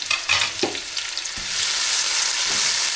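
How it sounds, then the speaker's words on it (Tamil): Crushed shallots sauté in hot oil for a spicy country crab curry, giving a close, steady sizzle broken by a few scraping stirs of the pan, with no voices. "பாருங்க வெங்காயம் நல்லா வதங்கிடுச்சு"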